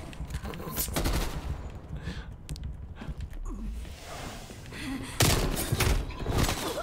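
Video game gunfire in rapid bursts and scattered shots, fairly loud and close, with thuds mixed in and brief talk.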